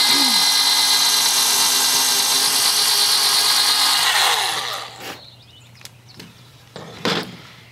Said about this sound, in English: these are just pilot holes to get the screw eyes in without too much work